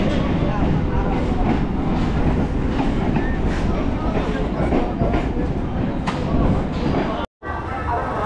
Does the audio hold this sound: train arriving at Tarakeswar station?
yes